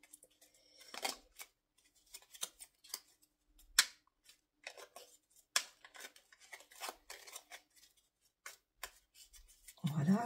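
An oracle card deck is cut and shuffled up close, giving soft, irregular papery snaps and flicks in quiet surroundings, with a voice entering briefly near the end.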